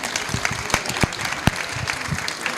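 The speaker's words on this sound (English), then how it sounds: "How about a round of applause for President Joe Biden for what he's done?" Audience applause at a COP27 climate session honouring President Joe Biden, a close, dense, steady clapping with a few sharper individual claps standing out, no talking.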